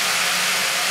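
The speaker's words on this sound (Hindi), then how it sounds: "इसके बाद हम इसमें सोया सॉस डालेंगे" Soy sauce poured into a hot pan for dry veg Manchurian makes a loud, dense, continuous hiss that holds steady for about a second.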